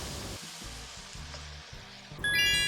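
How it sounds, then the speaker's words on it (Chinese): Luffa stir-fried with dried shrimp over high heat, a soft sizzle with intermittent scraping and tossing sounds, ending in a sharper metallic clink, close and without talk. "猛火翻炒至微微收汁后，最后来放点糖，收尾提鲜。"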